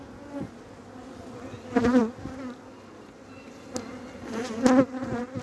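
Honey bees buzz around an opened hive early in the season, a soft steady hum with two louder swells as bees pass close, no talking.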